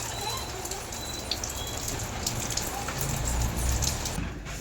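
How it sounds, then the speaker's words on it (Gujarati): Rain falls steadily in a broad, even hiss of drops that builds slightly toward the end, with a faint voice in the background. "પેલો વરસાદ છે."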